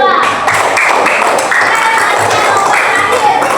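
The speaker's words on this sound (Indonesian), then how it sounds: "Tepuk tangan dulu untuk kelompok 2" A classroom of students during a microteaching lesson applauds a student group: dense, steady clapping filling the room close by, with a few voices mixed in.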